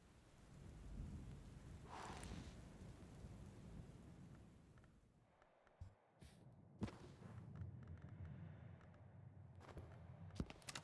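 Thunderstorm in a video game: steady rain on surfaces with deep rolling thunder and a few sharp cracks later on, continuous and fairly loud, with no talking.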